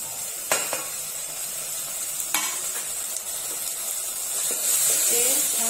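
Dry spices stirred and sautéed into a masala for homestyle Pune misal pav, a broad hiss with a few crisp spoon clacks, the sizzle rising toward the end, nearby and steady.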